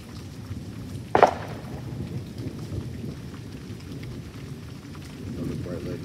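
Thunderstorm with steady rain falling and a sharp, loud crack of thunder early on, followed by continuous rumbling and the hiss of rain.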